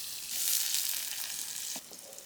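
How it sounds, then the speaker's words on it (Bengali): Taki fish spice paste of onion and garlic frying in a hot pan, a steady close sizzle that swells early and then eases, with a few faint stirring ticks near the end. "টাকি মাছের মশলাটা ভালোভাবে কষাই নিতে হয়"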